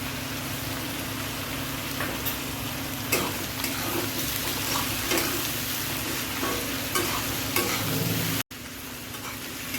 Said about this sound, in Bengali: বাঁধাকপি সবগুলো আমি দিয়ে দেবো। হালকা ফ্রাই করব